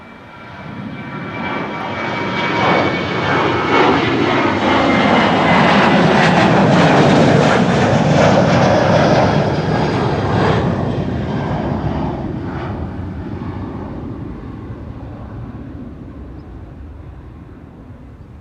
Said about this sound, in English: a small KLM 737 and an Embraer 175 from KLM to Turin, taking off simultaneously from Amsterdam